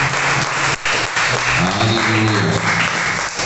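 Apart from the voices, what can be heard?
church congregation applauding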